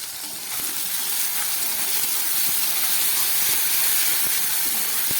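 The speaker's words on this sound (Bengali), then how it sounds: "নুন হলুদ দিয়ে একটু ভেজে নিলাম" Salt and turmeric sizzle steadily in hot oil with fried onions, cooked for a Bengali rita and tangra fish curry; a continuous close hiss holds from start to finish with no voices.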